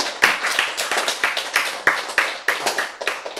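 An audience claps in near-unison, producing loud, close, rhythmic hand claps at a brisk, regular pace of roughly three per second, with no voices.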